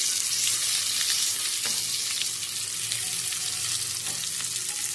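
Stuffed green chillies frying in a pan, a steady bright hiss and sizzle with faint crackles and a couple of soft clinks, close and continuous without talking.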